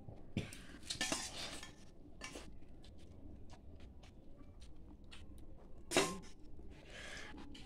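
Chicken being served onto a plate with metal utensils at home, scattered clinks and scrapes of spoon against dish, a few sharper knocks among quieter handling noises, close and fairly faint.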